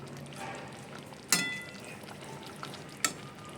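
Soft frying sizzle of hilsa fish cooking in a pan for bhapa, with a gentle spatula stir and two sharp scraping clinks against the pan over a quiet, steady background.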